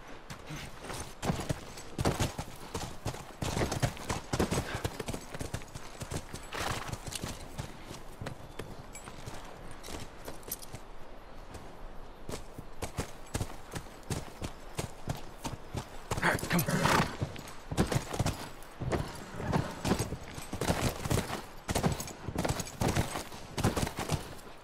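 Steady clip-clop of horse hooves trotting at a brisk, even rhythm throughout in The Last of Us video game, with brief speech-like sounds over it.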